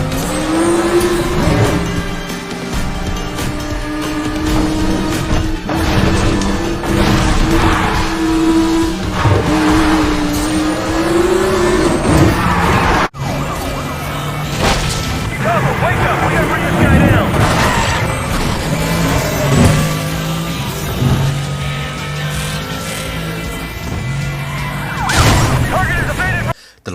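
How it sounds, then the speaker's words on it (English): Racing engines roar and tires squeal in Need for Speed: The Run, with loud, continuous engine drone, revving and skids throughout, and a voice talking over the game sounds. "Engine roars sound amazing, although I do have to admit that squeals can be a little too frequent"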